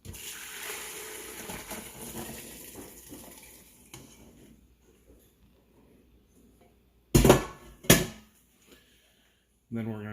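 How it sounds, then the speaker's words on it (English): Cooking liquid from Instant Pot beans poured through a strainer into a stainless steel bowl, a soft trickling pour in the first seconds, then quiet and a few sharp metallic clanks of the bowl and strainer near the end. "We're going to strain the water out"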